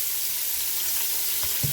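Garlic sautéing in a pan, a steady broadband sizzle throughout with a couple of soft stirring knocks near the end, close and fairly loud with no talking.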